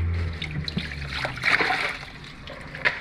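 Tap water trickles and splashes in a kitchen as food is washed, a soft steady stream with a few brief louder splatters near the start and end.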